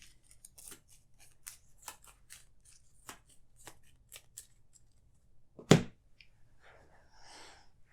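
Arkham Horror card-game cards are shuffled back into a deck, making a run of quick soft riffling flicks followed by one sharp slap of the cards, close up and without speech.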